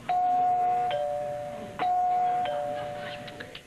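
A two-tone doorbell chime rings twice, each ding-dong clear and fairly close, with a brief gap between the rings.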